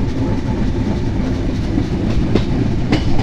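Banalata Express train rolling along the rails as it curves near Ishwardi bypass junction, a steady rumble heard from on board with clickety-clack wheel knocks and a couple of sharper metallic clanks, no talk.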